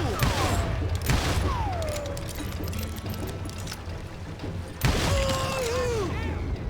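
Western shootout gunfire in the Call of Juarez Gunslinger video game, loud sharp bursts of shots with ringing ricochet-like whistles and booms, a big burst near the end, mixed with game effects.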